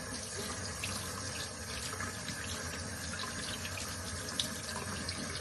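Water from a tap running steadily over a Shark Lift-Away vacuum filter as it is rinsed in a sink, a continuous close splashing flow with small shifts as the filter moves under the stream, no talking.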